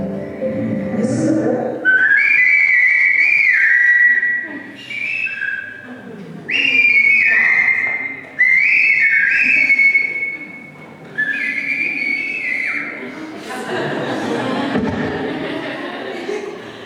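Several loud, sustained human whistles rise and fall in pitch, sounding repeatedly like signal calls, followed by noisy rustling near the end.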